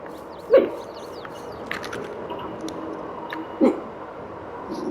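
Two short barks from a small dog, a few seconds apart, slightly distant over a quiet background with faint bird chirps.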